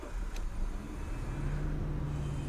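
Toyota Brevis engine turning over and settling into a steady low idle hum, close and moderately loud, no talking.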